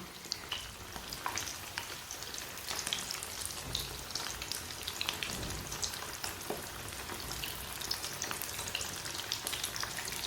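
Potato snacks deep-frying in hot oil, a loud continuous bubbling sizzle like heavy rain, close and steady throughout with no voices.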